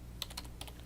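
Light, quick clicks from a computer keyboard, several separate keystrokes in an uneven rhythm, close up with no talking.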